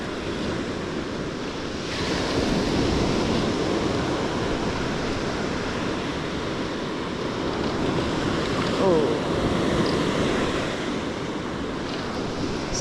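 Ocean waves roll in the shore break of a surf beach, a continuous, near roar of surf with wind buffeting the microphone and a brief swell partway through.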